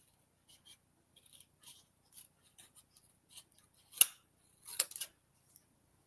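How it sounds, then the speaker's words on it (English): Scissors snip paper while fussy cutting around a shape in a card-making session, a series of soft, irregular close snips that build to a few louder crisp cuts near the end, with no talking. "I'm going to fussy cut this one."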